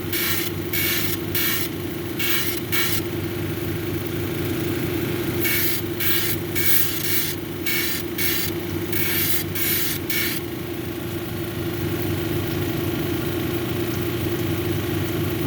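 A lapidary cabbing machine grinds a leopard skin jasper cabochon on a 280 grit wheel: a steady motor hum runs throughout, broken by repeated short bursts of harsh grinding as the stone touches the wheel.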